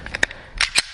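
A handgun being worked during a reload drill: a quick run of sharp, close clicks and snaps, ending with two louder cracks as the trigger is pulled, with no voices.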